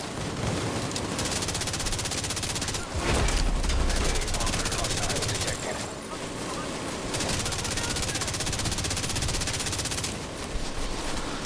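Sustained automatic gunfire from The Division 2, a third-person shooter, with a submachine gun among the weapons; loud near bursts continue almost nonstop with a heavy boom near the three-second mark, while a player talks over the shooting.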